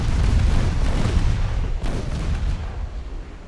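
Torpedoes striking warships in the naval battle game Ultimate Admiral Dreadnoughts, set in the Caribbean in 1908, give heavy booming explosions with rumbling low-end impacts that roll on continuously, loud and dense throughout.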